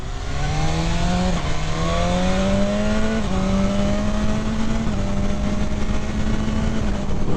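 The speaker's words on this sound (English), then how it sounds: "this bike has a ton more acceleration and a ton more low-end and high-end power" A 2015 KTM 1290 Super Duke R motorcycle accelerating hard, its loud, steady engine note climbing through several quick gear shifts with brief dips between them, close and continuous with no talking.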